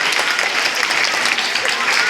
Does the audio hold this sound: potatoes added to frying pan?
no